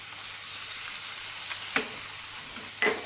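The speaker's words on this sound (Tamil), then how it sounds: "இப்போ நம்ம கட் பண்ணி வச்சுருக்க வெங்காயம், இப்போ ஜஸ்ட்டு ஒரு நல்லா கொஞ்சம் வதங்கட்டும்" Chopped onions sautéing in a pan for a mushroom tikka masala, a soft steady sizzle broken by two brief stirring scrapes, close and fairly quiet.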